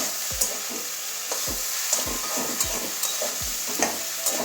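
Eggplant and bitter gourd fry in hot oil, a steady sizzle broken every half second or so by the scrape and knock of a spatula stirring the pan, close and fairly loud with no talking.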